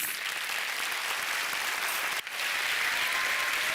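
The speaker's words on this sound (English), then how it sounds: "Can I request you to give yourselves a round of applause?" Steady, sustained applause from a large crowd at a university graduation ceremony, dense and even throughout with one brief dip midway.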